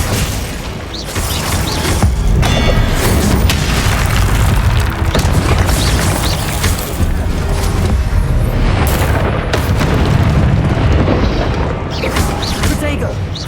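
Expelliarmus spell blast in Hogwarts Legacy: a loud, sustained roaring burst of magical energy with booming, crackling texture filling the whole stretch, heavy and dense throughout, with a voice faintly present underneath.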